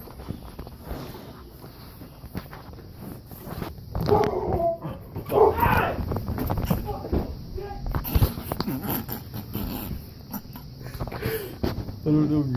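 Dogs barking and yipping at a distance, mixed with a voice talking and shouting nearby.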